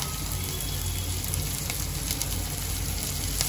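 Two slit green chillies frying in hot oil in a home kitchen, giving a steady dense sizzle with crackling pops, close and continuous with no voices.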